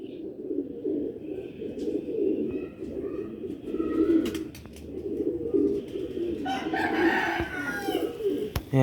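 Old-breed Sialkoti pigeons coo and call steadily across the whole stretch, with a rooster-like crow and other bird calls layered over the low cooing; no talk.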